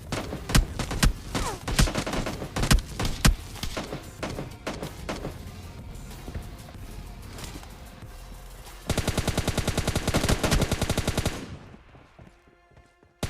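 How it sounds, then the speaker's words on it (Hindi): Sustained automatic gunfire from PUBG Mobile Lite, dense rapid bursts and single shots overlapping for about eleven seconds, then a sharp steady volley before cutting away to near silence. "और उसको मारने के बाद यहाँ पे गन साउंड आता है"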